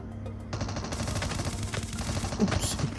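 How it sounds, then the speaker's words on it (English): Bursts of automatic gunfire in Call of Duty Mobile, sustained rattling shots that start abruptly and keep going with slight pauses, fairly close, with a faint voice mixed in. "Someone's firing at me."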